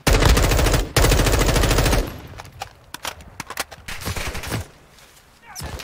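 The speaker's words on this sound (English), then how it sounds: "Taking effective fire!" Heavy gunfire in the Modern Warfare 2022 DMZ video game: two seconds of dense, rapid automatic fire, then scattered bursts and single shots crackling at varying distances.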